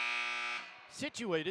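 A basketball gym substitution buzzer at a high school girls' and boys' double header sounds as a steady, loud harmonic buzz for about half a second. Announcers then start talking close by.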